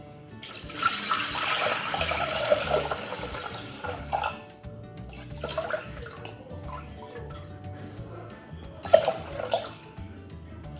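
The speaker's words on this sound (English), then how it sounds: "I'm going to put some water in to be boiling just for 10 minutes" Water pouring from a tap into a Thermomix bowl, a steady splashing stream for several seconds that stops, then shorter bursts of running water and drips follow.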